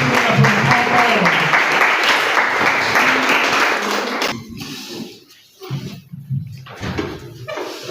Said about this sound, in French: Je vous prie, mesdames et messieurs, d'applaudir encore très fort pour les deux dames qui vont s'avancer sur la première